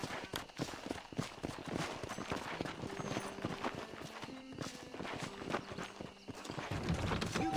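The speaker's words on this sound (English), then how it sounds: "This steed looks right tetchy, I don't mind telling." Wild horse in Red Dead Redemption clopping its hooves in quick irregular steps, with stamping and shuffling throughout and a rising, louder burst of movement near the end, set against faint game ambience.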